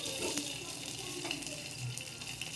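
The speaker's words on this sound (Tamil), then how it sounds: "நல்லா கொதிச்சு வருது" A pan of tamarind mixture simmers and bubbles with a soft, continuous hiss and burble at low volume, close by, with no speech.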